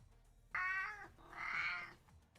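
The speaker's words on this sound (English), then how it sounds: "Thanks for the meow, Alex." Cat meow alert sounding twice, two short drawn-out mewing calls, clear but fairly quiet against a faint background with no talking.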